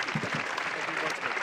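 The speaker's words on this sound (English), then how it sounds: "so that everybody can give all the speakers of the day a big round of applause" Audience applause for the day's speakers at a CERN gathering marking the 20th anniversary of the World Wide Web, a dense steady patter of many hands filling the room, with voices talking over it.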